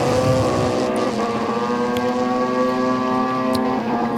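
A nitrous-fed KTM 500 LC4 motorcycle drones along a drag strip at a Mancup World Finals race, a loud sustained engine note with wind rush and no talk.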